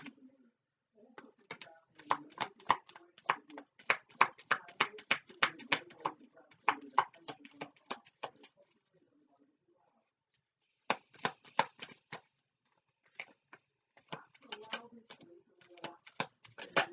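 Tarot-style cards are shuffled by hand in short bursts of crisp, rapid riffling flicks, a long busy run followed by a pause and then more irregular shuffling, close and clear with no speech over it.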